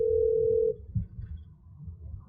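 A call placed hands-free through an Amazon Echo Auto in a car rings as a steady, even tone that cuts off after under a second, followed by a soft thump and quiet background.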